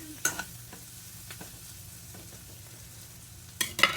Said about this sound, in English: Then I put the green beans